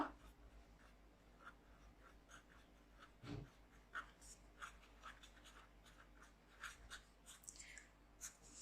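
A pen scratches on paper in short irregular strokes while a math problem on triangle height and area is written out, quiet and close, with soft breathing and no talk.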